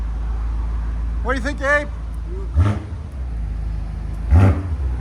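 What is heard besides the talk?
BMW M5 4.4L twin-turbo V8 engine revving, Dinan exhaust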